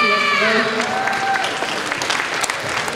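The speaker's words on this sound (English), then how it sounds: "Let's give a round of applause for Dr. Rios" Audience applause for a guest speaker at a community event, a dense steady clatter of clapping from a crowd holding at an even level throughout, with faint tonal traces of voices or music fading out early on.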